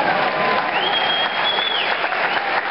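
An audience breaks into loud, dense applause and crowd noise during a talk, steady and close throughout, with a thin whistle rising above it partway through.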